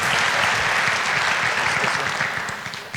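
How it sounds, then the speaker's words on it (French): Guests at a regional business awards evening applaud the first prize winner, a loud, dense burst of clapping from a close crowd that stays full and then begins to thin toward the end. "Allez, applaudissements pour le premier lauréat de cette soirée."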